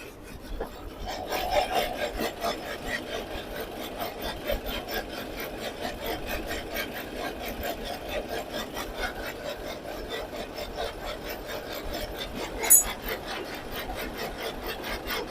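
A sharp lathe tool cutting metal, heard as a steady close rasping scrape that runs continuously with one brief louder scratch near the end, no talking.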